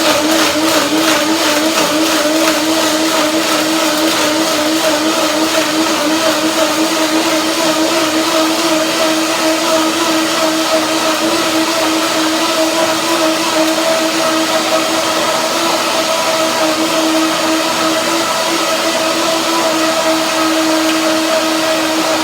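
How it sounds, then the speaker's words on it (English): A blender runs continuously, whirring steadily as it breaks down chia seeds in almond milk, with a loud, even motor hum that holds without pause from start to finish. "I just blend some chia seeds with almond milk to find out."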